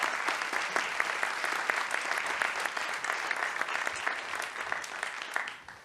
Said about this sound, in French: Je vous demanderai une chaleureuse main d'applaudissement pour